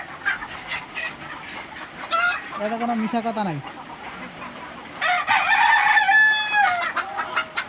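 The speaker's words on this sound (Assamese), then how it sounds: "এইখিনি মোৰ মুৰ্গী আছে" Farm chickens cluck near and loud while a rooster crows once partway through and another crowing or squawking call follows near the end, with someone speaking briefly over the birds.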